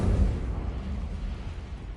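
A fire spell bursts out in a Hogwarts Legacy game, a loud, close, deep rumbling roar of flame that swells at the start and keeps rushing steadily, with no talk over it.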